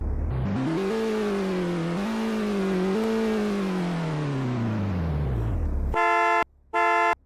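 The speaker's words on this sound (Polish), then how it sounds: "No ten klakson taki basicowy trochę bym powiedział" A basic car horn in the Polish Car Driving video game gives two short, loud honks, following a steady engine rev that rises and falls.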